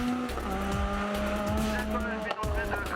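Volkswagen Golf GTI race car at a hill climb in Guadeloupe, a loud close engine climbing through gears with tire squeal and skidding, one brief lift near the end, a commentator's voice running over it.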